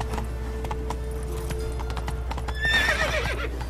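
Steady clip-clop of hooves in the video game The Witcher 3 plods along in rhythm, then a horse lets out a loud, shrill whinny near the end, close and clear.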